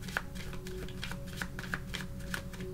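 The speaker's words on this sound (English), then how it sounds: "I'm just going to finish shuffling" A deck of tarot cards being shuffled by hand, with soft riffling flicks and crisp card slaps repeating in a loose rhythm, close and fairly quiet with no talk.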